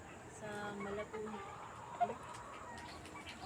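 Chickens on a small farm give a few soft, scattered clucks, faint and somewhat distant, heard against low background noise.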